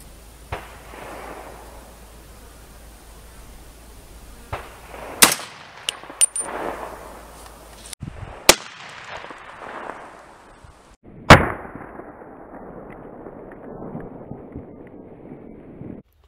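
Gunshots from a .300 Blackout rifle firing Grizzly Subsonic 220 grain lead round nose rounds at body armor outdoors, a few sharp separate cracks spread over quiet stretches with some wind noise.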